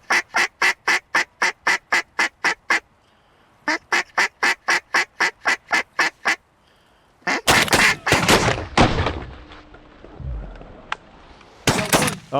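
Shotgun blasts during an Alberta waterfowl hunt for mallards and Canada geese: a long run of rhythmic duck calling, then a couple of loud, close shots with echoing tails.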